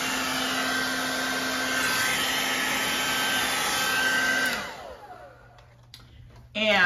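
Handheld hair dryer blowing on hair, a loud steady whir with a high whine running for several seconds before switching off into a quieter room, then a sudden loud rustle at the end.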